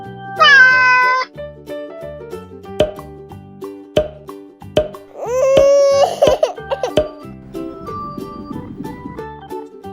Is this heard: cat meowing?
yes